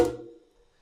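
Manjira, small Indian hand cymbals, give a single bright metallic ting that decays quickly into a faint ringing tail, short and isolated like a button click.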